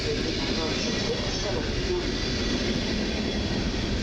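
A double-decker push-pull commuter train of Koleje Mazowieckie from Skierniewice rumbles steadily past at Warszawa Zachodnia station, a loud continuous roar of wheels and motors that fills the whole stretch.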